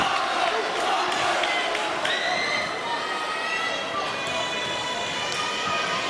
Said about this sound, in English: the crowd came alive